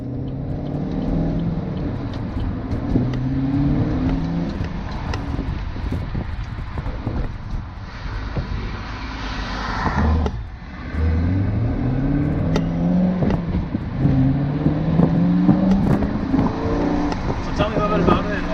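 A 2018 Chevrolet Camaro SS 1LE V8 revs and pulls through several gears while driving. Rising harmonic sweeps come and go, with a brief lift near the middle. Wind noise and voices run underneath throughout.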